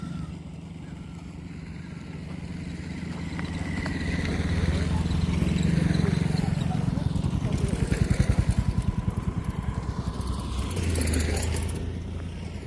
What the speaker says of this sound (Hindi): ये सब लोकल गाड़ियां हैं